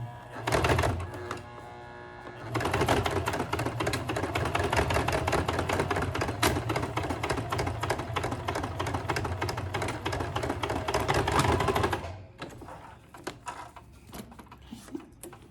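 Sewing machine stitching pleats on a fabric face mask, a close, fast rattling run of needle strokes lasting several seconds between quieter handling sounds.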